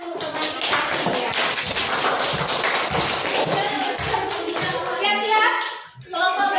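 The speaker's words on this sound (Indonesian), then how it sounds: "Kita berikan tepuk tangan untuk teman kita Cia" Children in a classroom clap their hands for a classmate, making dense, fast claps and taps that fill the room under excited kids' voices, then fade out near the end.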